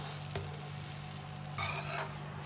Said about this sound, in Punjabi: ਹੁਣ ਇਹਦੇ ਉੱਤੇ ਵੀ ਆਪਾਂ ਨਾ ਥੋੜਾ ਥੋੜਾ ਘਿਓ ਪਾ ਦੇਵਾਂਗੇ ਹੁਣ ਆਪਾਂ ਇਹਦੀ ਸਾਈਡ ਬਦਲ ਦੇਵਾਂਗੇ